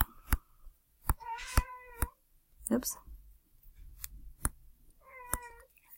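A cat meows twice, clear drawn-out calls close by, amid scattered clicks and a brief spoken word.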